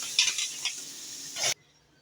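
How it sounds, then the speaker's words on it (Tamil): Butter sizzling in a pan with pieces of chicken, a close frying hiss broken by a few stirring scrapes before cutting off abruptly. "பட்டர் போட்டதுக்கப்புறம் சிக்கன் இதிலே போட்டுக்கலாம்."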